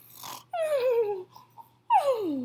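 A voice imitates a monster snoring: two long, wheezy, descending groans separated by a short breathy pause.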